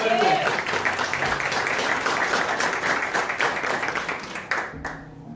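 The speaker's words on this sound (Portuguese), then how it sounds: "Dá uma salva de palmas para o Senhor nessa manhã." A church congregation claps together in sustained, dense applause during a worship service, with some voices mixed in, then the clapping tapers off and stops near the end.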